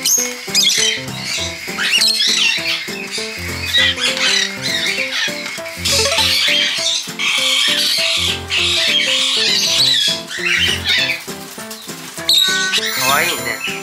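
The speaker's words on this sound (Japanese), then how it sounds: "このお部屋は結構鳥さん飛んでますね。" Around thirty rescued parakeets fill an indoor room with loud, overlapping squawks and chattering calls that run continuously, with sharp bursts throughout.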